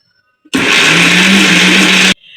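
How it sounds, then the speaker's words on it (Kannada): A kitchen mixer grinder blends raw mango chutney ingredients with jaggery and asafoetida, starting abruptly, whirring loud and steady for under two seconds, then cutting off to near silence. "ಎಲ್ಲ ಹಾಕ್ಬಿಟ್ಟು ಚೆನ್ನಾಗಿ ನುಣ್ಣಗೆ ರುಬ್ಕೋಬೇಕು"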